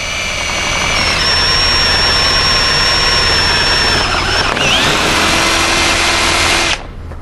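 A power drill with a 3/8 bit runs slowly and steadily through the thin outer aluminum skin of an Airstream trailer, a loud continuous whine held for several seconds before cutting off abruptly.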